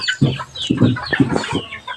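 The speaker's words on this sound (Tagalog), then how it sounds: "Yan po, yung mga manok namin." Native chickens in a rural Philippine yard give several short clucks close together in quick bursts, with soft scattered calls between them.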